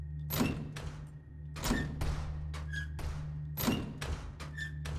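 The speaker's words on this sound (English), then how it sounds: "It's literally a squeaky door." Three creaking squeaks from the squeaky door on the Nuke map in CS:GO, each opening with a thunk, arriving at a steady pace over a low steady game hum.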